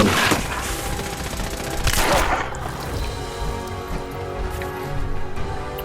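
Rapid automatic gunfire in the Fallout 4 video game, dense bursts of loud shots with a couple of sharper blasts and a continuous rattling texture throughout.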